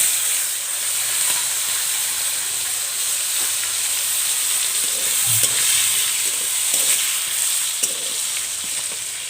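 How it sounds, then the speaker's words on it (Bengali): Green chillies and tomatoes stir-frying with mustard seeds in a hot pan give a steady loud sizzle and hiss, broken by occasional scraping and stirring knocks from a spatula. "কাঁচা লঙ্কা দিয়ে নাড়তে থাকবো। তারপরে কিন্তু আমি কাঁচা টমেটোগুলো দিয়ে দেবো।"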